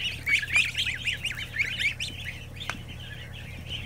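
Geese honking in a rapid, repeated chatter close by in a shed, a steady low hum running underneath and no voices.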